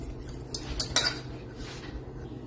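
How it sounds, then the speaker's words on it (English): A whisk scrapes and clinks against a pan while stirring a melting cookie mixture off the heat, several quick metallic strokes bunched in the middle over a quiet background, with no talking. "just continuing to whisk it like this until it fully melts"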